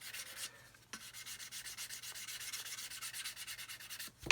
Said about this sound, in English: I gently go over that with a sanding stick